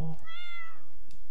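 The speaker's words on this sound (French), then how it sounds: "miaou." A single cat meow from the Stardew Valley video game rises and falls over under a second, clear and close. A brief soft sound follows before the clip ends.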